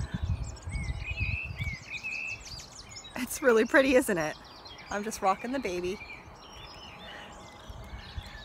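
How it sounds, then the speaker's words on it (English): Birds chirp and sing outdoors throughout, with soft background noise and someone speaking briefly in the middle. "can you guys hear all the birds in the background?"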